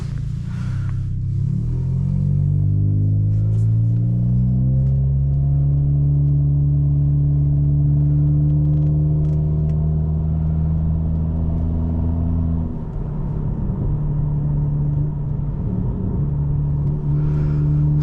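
A 2023 Honda Civic Touring with a custom shop-built muffler exhaust drives in sport mode, a deep steady exhaust drone and rumble heard from the cabin that climbs and falls through gear changes, with no talk over it.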